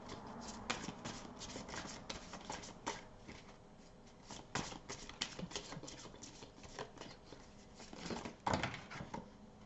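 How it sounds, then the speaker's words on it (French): Tarot cards being shuffled and drawn by hand: a quiet, continuous flutter of riffling and slapping cards with repeated soft snaps and rustles, close by and without talk. "Donc je vais tirer une carte de plus."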